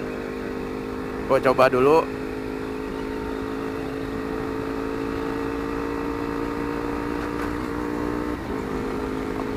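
Motorcycle fitted with a budget aftermarket quickshifter, ridden with no clutch, its engine humming at a steady mid pitch as it climbs through the gears, with a short revving surge early on and someone talking briefly over it.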